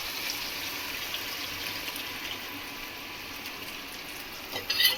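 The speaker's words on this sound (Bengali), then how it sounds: "এবার আমি উষ্ণ গরম জল দেবো এতে" Warm water pours steadily into a pot of mutton kosha with tomato and potato, making a continuous gentle rush over faint sizzling that ends in a brief clatter, with no voices.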